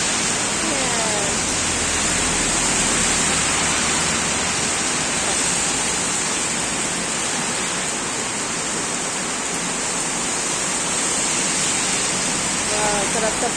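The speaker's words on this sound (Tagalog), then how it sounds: "Nakita ko lang sa inyo yung ulan dito sa Dumaguete" Heavy rain pours in Dumaguete as a dense, loud, unbroken hiss that stays even throughout, with faint chirps near the start and end.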